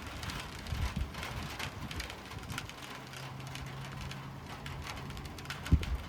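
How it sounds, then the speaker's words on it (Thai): Steady, soft rain hisses quietly outdoors in Sweden, with a faint low hum underneath and a single dull thump near the end. "โดยรวมแล้วตอนนี้ฝนก็ยังตกอยู่นะคะ"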